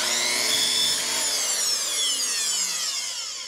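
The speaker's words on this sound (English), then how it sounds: "But for now, I'm just gonna cut these down with my little saw and get the lengths that I want." A small hand saw works through PVC pipe for swimming pool filter plumbing, giving a continuous close rasping with pitch sweeps from the strokes over a few seconds, without speech.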